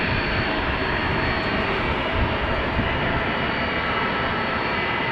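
Turkish Airlines jet aircraft taxiing at rainy Amsterdam Schiphol Airport, a loud, steady engine roar with broadband rumble that holds constant throughout, close by and with no voices.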